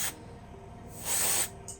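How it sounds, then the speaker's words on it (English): School poster paint is sprayed onto a model railway vehicle in two short hissing bursts, a brief one at the start and a longer, louder one about a second later, close and alone. "I'm going to spray on and coat the entire model"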